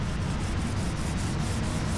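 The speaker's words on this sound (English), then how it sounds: "I'm wet sanding the aluminum again." Steady wet rubbing and scraping of wet sanding aluminum on a Harley Softail build, a continuous gritty swish with a faint rhythmic pulse, close up and alone.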